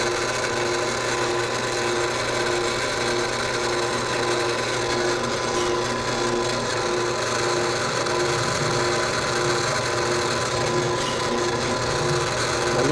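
A power tool grinds steadily into wood, a continuous buzzing whine with rough scraping texture, close and loud throughout, no voices.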